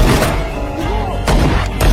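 Gunfire during a film car chase, with heavy booming shots and thuds over a rumbling background, two strong blasts standing out later, all loud and close.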